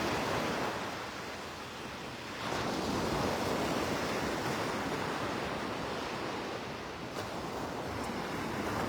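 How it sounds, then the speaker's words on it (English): Ocean waves crash and wash onto the beach at Tybee Island, a broad continuous roar of surf with gentle swells and some wind buffeting the microphone, no voices. "Aside from the waves crashing, it's pretty quiet out here."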